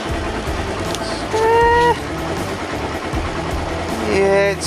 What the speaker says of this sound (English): The engine's very warm now, so I think that this is the RPM we are aiming for